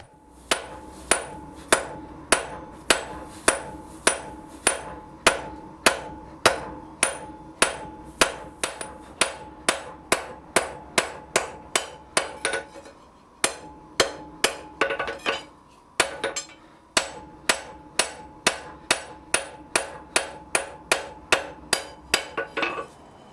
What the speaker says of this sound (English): And then I use a cross peen to spread out the material that I'm going to need for the box.